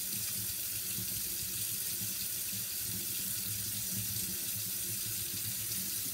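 A kitchen sink tap runs steadily while hands are washed during meal prep, a continuous close water stream with no break and no talk.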